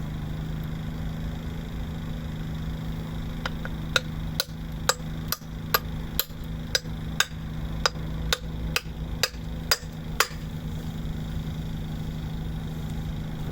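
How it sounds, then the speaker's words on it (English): A new brake wheel bearing seal on a 1984–89 Toyota van wagon is driven in with about a dozen sharp, evenly spaced hammer strikes over a low steady hum, then the blows stop. "And we're going to drive the seal in."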